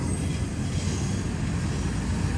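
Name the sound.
freight train rolling by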